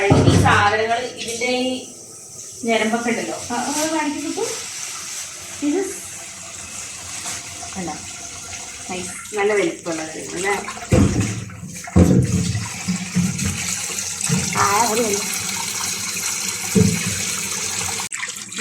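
Lesser yams being washed in water, with splashing and sloshing in bursts throughout while a person talks over it.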